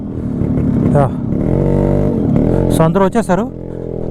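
A motorbike rolls in on an off-road dirt track, its engine droning and rising close by, while a voice speaks over it and laughter breaks in near the end.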